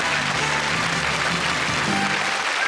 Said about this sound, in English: Give him a round of applause, our first contestant.